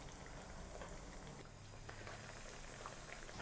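Breaded pork donkatsu cutlet frying in hot oil, a steady, faint bubbling crackle that continues evenly without pause.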